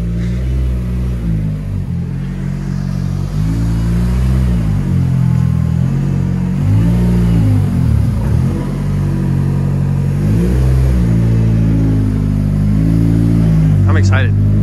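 An S197 Mustang drift car with a 6-speed pulls away, its engine droning loud and close with rising and falling revs throughout, a voice talking over part of it.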